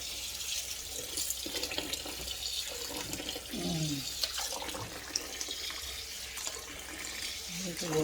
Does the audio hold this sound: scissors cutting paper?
no